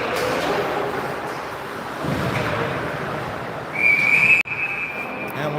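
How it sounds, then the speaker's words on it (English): A referee's whistle at a girls' under-15 ice hockey game sounds one sharp, sustained blast over the rink's broad crowd and arena noise, then stops abruptly. "And we'll get a whistle."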